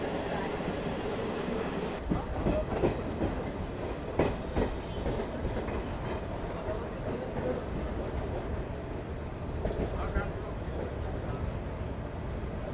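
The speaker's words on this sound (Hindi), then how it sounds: "डिपार्चर जो है वो भी हो गया अपने ट्रेन का" A passenger train rolling out of a station in heavy rain in West Bengal, a steady rumble with rhythmic wheel clatter from inside the carriage, a few louder knocks, and faint voices in the background.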